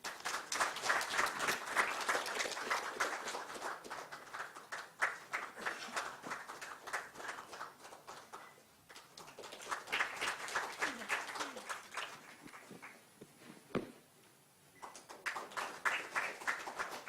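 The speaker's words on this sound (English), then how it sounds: "A big round of applause for" An audience applauds at a stage appreciation ceremony as a guest is called up to present a token; sustained crowd clapping swells and thins, dipping briefly twice, with scattered voices and shuffling beneath.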